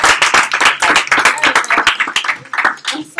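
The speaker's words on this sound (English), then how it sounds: "Let's give her a round of applause again." A small workshop audience claps for a participant at a legal workshop, the close, crisp hand claps loud and somewhat uneven for about three seconds before thinning out.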